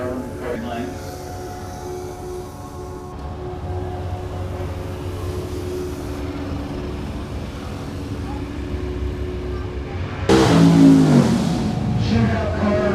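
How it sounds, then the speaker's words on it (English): Drag race cars run down a strip at Bunker Hill Dragstrip, one of them an orange Camaro in a Slick TNT class, with a steady, distant engine roar that swells louder near the end while an announcer talks over it. "You're going down the track with Rob Lash."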